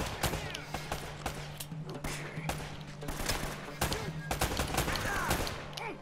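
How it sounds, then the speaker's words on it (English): Dense bursts of gunfire in the Uncharted video game, with rapid shots coming from several directions in a continuous barrage, mixed with impacts and game effects. "Oh, I'm being shot from everywhere."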